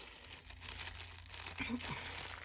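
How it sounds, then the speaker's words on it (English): A zipper sample being pulled out of a plastic bag, heard as soft plastic crinkling and rustling that grows a little louder toward the end, with faint talk in the background. "let me pull it out of the bag"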